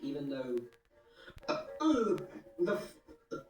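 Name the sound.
burp after drinking cola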